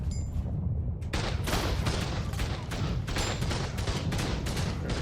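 Rapid gunfire in the survival video game Ark, a dense, continuous barrage of overlapping shots that runs steadily through the whole stretch at a loud level.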